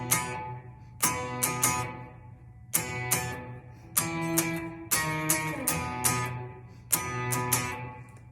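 Dry electric guitar riff for a worship song, played with no delay: sharp strummed upstroke chords in a steady repeating rhythm, each attack ringing briefly before the next, alone and close.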